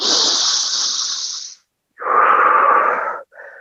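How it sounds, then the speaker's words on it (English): Audible breathing in a yoga class during a standing pose with the front knee bent and arms raised: a long, airy inhale, a short pause, then a steady, strong exhale and a brief final breath, near and alone. "We breathe here."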